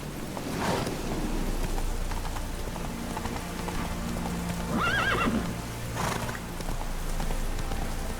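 A horse in The Witcher 3 gallops with rapid clip-clop hoofbeats and gives a clear neigh midway, set against a rain-like outdoor ambience, with no voices heard.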